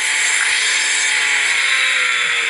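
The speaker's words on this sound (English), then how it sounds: "So this is the upgrade version of the chainsaw" Upgraded chainsaw in the zombie game Into the Dead, a loud, continuous high-pitched buzzing whine that holds steady without pause, close and alone.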